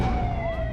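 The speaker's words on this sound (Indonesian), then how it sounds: "mobil damkar mau lewat" A fire truck siren wails nearby, loud and continuous, its pitch sweeping in a brief rising and falling glide over rumbling traffic and engine noise, without any speech.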